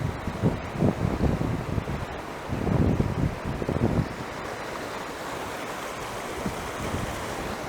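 River water rushing steadily through Boulder Canyon in the Colorado mountains, a broad continuous wash with gusts of wind buffeting the microphone early on, no voices over it.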